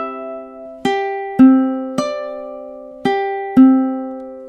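Ukulele strums a song's chords across all four strings in time, five bright ringing strokes spaced evenly about a second apart, each decaying, close and alone.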